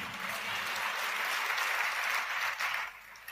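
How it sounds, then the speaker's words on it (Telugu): Audience applause during a Telugu Christian sermon, a steady dense wash of many hands clapping that holds loud for about three seconds before tapering off near the end. "ఏమన్నా అర్థమై చప్పట్లు కొడుతున్నారా, లేకపోతే నా ఆనందం కోసం కొడుతున్నారా?"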